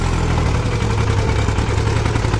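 A tractor engine rumbles steadily at close range as it turns, a heavy low chugging drone with no voices over it.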